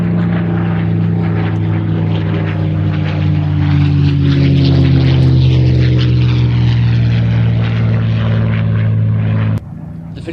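A World War II propeller warplane, a Spitfire or P-51, passes close with a loud, droning piston engine roar and strong low harmonics that shift in pitch before cutting off abruptly near the end.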